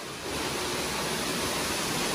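Flowing water at a zoo exhibit gives a steady, dense rush, close and continuous like a small waterfall, heard alone with no voices.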